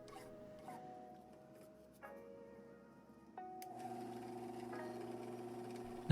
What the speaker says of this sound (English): started filing down the surface by hand